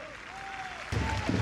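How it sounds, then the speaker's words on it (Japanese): Broad wash of stadium crowd applause at a football match swelling suddenly after a goal, distant and steady, under a commentator's voice. "これには惜しみない拍手が送られます。"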